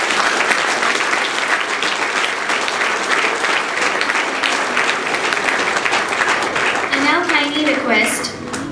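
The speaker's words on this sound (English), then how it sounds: "Let us give Ms. Caroline Nunes a big applause." An audience at a Founder's Day western classical music event claps warmly after a recital, a sustained dense applause that carries on loudly until a voice begins speaking near the end.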